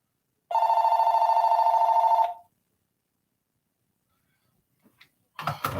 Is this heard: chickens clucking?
no